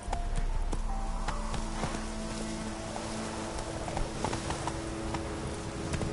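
Roach the horse clip-clops along in The Witcher 3, a steady close rhythm of hoofbeats on hard ground over a soft wind and ambient bed.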